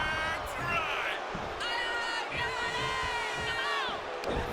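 Crowd cheering and shouting in a WWE 2K25 wrestling match with John Cena firing up the arena, a steady roar with rising shouts and whistles throughout, blended with a game announcer's voice.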